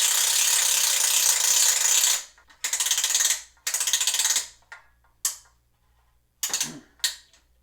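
A ratchet and pawl clicks rapidly as a drawboard is cranked back on a flex test rig for a 27-inch Gillo GT archery riser, one long run followed by shorter bursts and a few separate clicks, close and clear.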